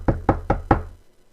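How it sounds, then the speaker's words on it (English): Four quick, evenly spaced knocks on a door, crisp and fairly close, followed by silence. "and then he hears a knock on the door"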